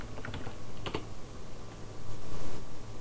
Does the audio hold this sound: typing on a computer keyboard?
yes